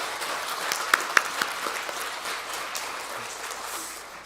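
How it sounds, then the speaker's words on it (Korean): A church congregation at a New Year's worship service applauds in praise to God, a steady, moderately loud wash of clapping with a few sharper individual claps standing out early on. "하나님께 영광의 박수 올려드리겠습니다."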